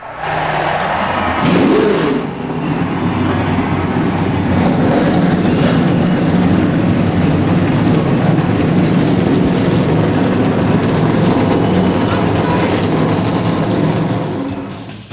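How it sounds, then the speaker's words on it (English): Field of stock cars at the 2009 Daytona 500 firing up their engines: after a brief quiet moment, a loud, dense roar of many engines bursts in and holds steady, near and continuous, with no talk. "gentlemen, start your engines!"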